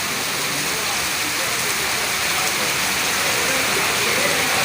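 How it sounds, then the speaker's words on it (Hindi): Rain falls steadily at night outside the National Press Club, a dense, even hiss of drops on surfaces that fills the scene without pause or change. "बारिश ने समा सुहाना बना दिया है।"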